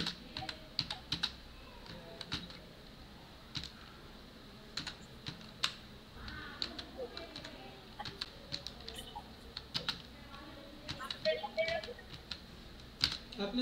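Typing on a computer keyboard during an Excel data validation lesson, with sharp, irregular clusters of key clicks and occasional pauses, faint and close, with soft talk in the background.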